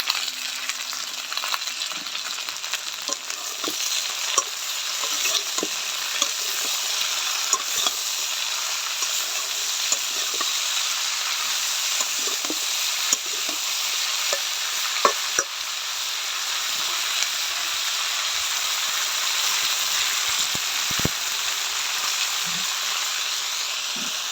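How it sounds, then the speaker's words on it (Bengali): Vegetables sizzle steadily in a hot pan for a curry while a spatula stirs them, scraping and tapping against the metal every few seconds, close and alone. "সবজিগুলো ভাজা হয়ে গেছে"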